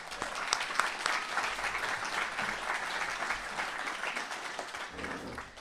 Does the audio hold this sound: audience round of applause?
yes